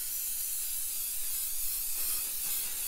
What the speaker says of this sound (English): put my gloss spray over it